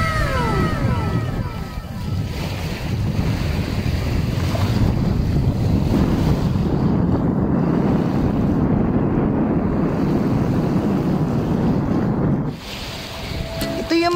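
Strong wind roars across the microphone while sea waves wash in continuously at Little Boracay beach in Santa Maria, Davao Occidental, loud and steady throughout with a brief easing near the end.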